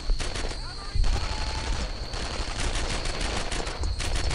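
Dense WWII gunfire in Brothers In Arms: Earned in Blood, rapid rifle and machine-gun bursts rattling nonstop, with shouted squad voices mixed into the loud battle din.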